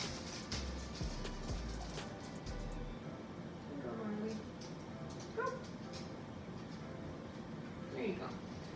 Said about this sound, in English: My dogs love tomatoes, so I'm gonna give them the core of all the tomatoes.